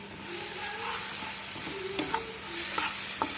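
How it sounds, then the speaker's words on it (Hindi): Capsicum fries in hot ghee in a pan with a steady sizzle, joined by a few light stirring scrapes and clicks of a spoon against the pan; no voice is heard. "हम अपनी शिमला मिर्च इसमें ऐड करेंगे"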